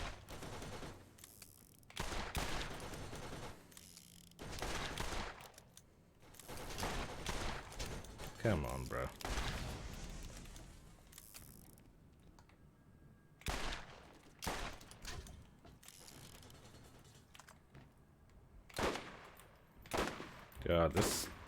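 Sharp pistol shots crack in bursts within The Borderlands on PS4, loud reports separated by quiet gaps across the stretch, with someone talking casually between volleys.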